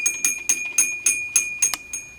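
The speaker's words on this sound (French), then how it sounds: "Je peux sonner les cloches" Bright metallic church bells strike about four times per second, evenly spaced and close, with a sustained high ring between them, in Gaspésie, Quebec.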